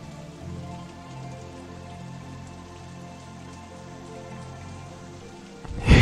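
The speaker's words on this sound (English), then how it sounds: "Oh, I just noticed this is a rainy scenario thing as well." Rain falls steadily in a rainy OpenRCT2 theme park scenario, a soft continuous patter under low game music, ending in a louder sudden burst.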